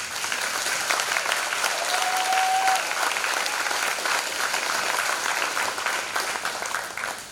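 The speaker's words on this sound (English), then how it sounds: "So just one time, just go ahead and clap it up for yourselves." A room full of people at a police department community dialogue event applauds steadily for several seconds, a dense, even clapping that fades slightly at the end.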